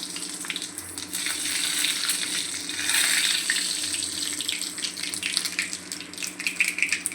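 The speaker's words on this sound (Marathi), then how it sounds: "आता आपण आधी राई जिरा टाकून घेऊ." Mustard seeds and cumin sizzling in hot oil, a continuous bright hiss with scattered crackles and pops that thicken toward the end.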